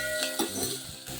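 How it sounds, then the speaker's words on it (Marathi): Onion fries in a tempering of oil and asafoetida for tamarind-jaggery amti, a soft sizzle broken by a few quick stirring scrapes and clinks over about a second. "आता याच्यामध्ये एक कांदा घालते।"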